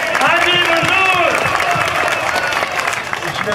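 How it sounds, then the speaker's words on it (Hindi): Crowd applause at an election rally, loud sustained clapping under an announcer's voice speaking over a microphone, carrying on without break. "आपकी तालियों की गूंज में हाजी मंजूर।"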